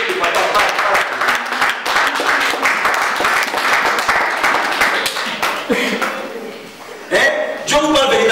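A church congregation at a worship service bursts into loud, sustained applause mixed with cheering voices. The clapping is dense and continuous, dips briefly near the end, then swells again.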